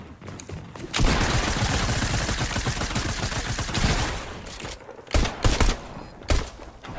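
Sustained burst of rapid gunfire in a Fortnite match, a dense loud rattle lasting several seconds, followed by a few separate sharp shots after a brief pause.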